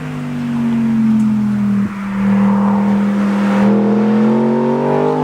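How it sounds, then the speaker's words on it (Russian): A car engine drones steadily, shifting pitch as it revs, with a broad rushing noise of tires on the road; no voices. "можно услышать звуки не только двигателей, но и шуршание и скольжение шин"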